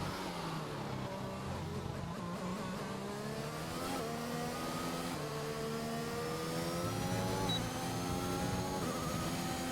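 Formula 1 race cars in the F1 2021 video game at the Portuguese Grand Prix, loud high-pitched engines revving and shifting gears continuously, with several cars overlapping close by.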